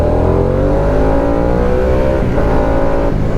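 A Harley-Davidson Nightster 975 motorcycle engine accelerates hard, loud and close, its rising harmonic drone climbing steadily in pitch with wind noise throughout and no talking.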